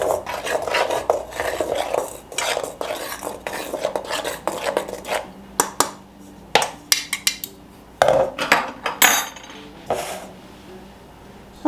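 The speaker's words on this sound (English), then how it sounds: "I'm just gonna give those a quick little stir" Utensil scraping and clinking around a bowl while stirring dry ingredients for sourdough biscuits, a brisk uneven run of close scrapes and taps with short pauses and sharper knocks toward the end.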